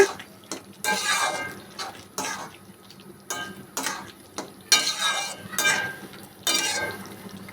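Salt is stirred into khuder bou, a traditional broken-rice dish, in a cooking pot, making repeated close scraping and clattering strokes in uneven bursts over a soft background hiss.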